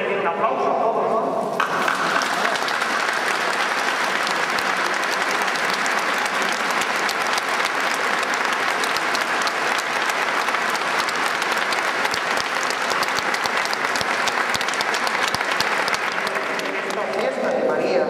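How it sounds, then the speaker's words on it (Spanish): A church congregation at a Mass honouring the Virgin of the Remedy in Chelva claps together in sustained, dense applause that lasts many seconds, with voices faintly mixed in. "siempre voy a decir un aplauso a todos"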